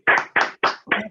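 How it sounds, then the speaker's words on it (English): Four separate hand claps in an even rhythm, close and crisp, each fading quickly before the next, offered for a guest speaker at a talk on Conway's Law. "the biggest round of applause for our wonderful guest, Michael"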